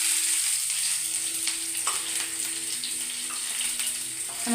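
Chopped shallots frying in hot coconut oil with popped mustard seeds give a steady, close sizzle with faint crackles and occasional stirring clinks.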